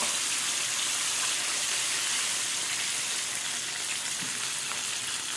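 Food fries in a wok with a dense, even sizzle that stays steady and close throughout, with no voices.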